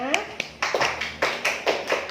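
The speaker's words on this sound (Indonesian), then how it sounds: "sekali lagi tepuk tangan buat kalian semua" Students in a classroom clapping their hands, a quick run of uneven claps lasting a couple of seconds under a teacher's voice.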